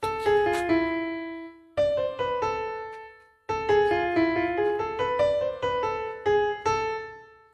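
Keyboard plays the Bella Ciao intro melody in three short phrases separated by brief pauses, bright single notes in a steady rhythm, up close with no voices.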